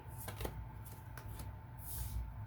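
Tarot cards being shuffled and drawn for a love reading, with soft, quick papery riffles and slides in a short near burst over a steady low room hum.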